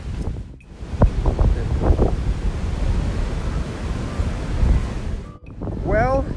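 Surf and gusting wind roar steadily on a beach as Hurricane Dorian passes in 2019, the wind buffeting the microphone, with brief voices cutting in near the start and end.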